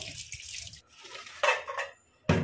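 Tap water runs into a kitchen sink while fish is washed by hand, bursts of splashing and trickling broken by brief pauses, close and fairly loud, no one speaking.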